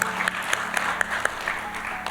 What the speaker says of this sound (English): Can we give them a big round of applause and welcome them?